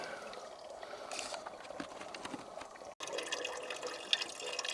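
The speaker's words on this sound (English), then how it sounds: "Free water, free clean water just flowing out of the hill." Steady running spring water flows out of a hillside, trickling and splashing outdoors, a continuous gentle flow with faint drips and no voices.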